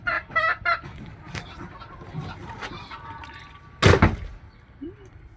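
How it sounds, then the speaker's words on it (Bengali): Chinese ducks quack and chatter in short, scattered bursts nearby, with faint outdoor village background noise. "হাঁসগুলো চীনে হাঁসগুলো চলে আসে রান্না আশেপাশে হাঁটতে থাকে"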